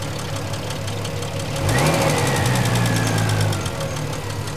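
A fuel-injected Triumph TR6 engine idles, then a quick throttle blip lifts the revs for about two seconds before they settle back to a lumpy idle, close and clear with no talk.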